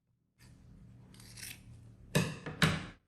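Scissors cut through fabric beside a freshly sewn seam on a small lined bag: soft rustling handling, then two sharp, close snips in quick succession.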